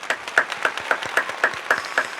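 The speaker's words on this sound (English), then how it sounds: "Hand clap for Kobe's greatness." Roughly nine hand claps in a steady, even rhythm, moderately loud and close, with no voices over them.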